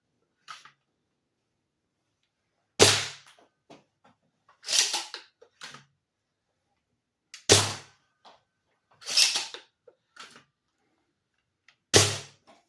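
A foam harpoon toy blaster fires five times in a row, each shot a sharp, punchy pop followed by brief rattling and handling clicks between, close and loud against near silence.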